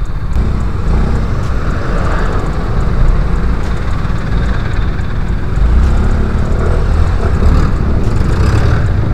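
Heavy road traffic on EDSA rumbles steadily from inside a moving vehicle. A dense, continuous engine and tire roar carries a low drone without letting up.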